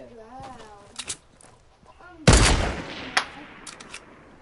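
Video-game gunfire: a loud burst of shots erupts mid-clip and decays, with sharper single cracks and short bursts before and after, while a player talks over the action.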